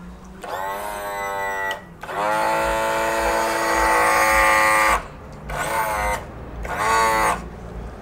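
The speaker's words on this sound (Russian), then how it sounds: "Долили масло в гидроподъем, и он заработал." The hydraulic trim and tilt lift of a Yamaha 90 outboard motor, refilled with oil, whines in four electric-motor bursts, one long run in the middle and shorter ones after, each stopping abruptly with no talking.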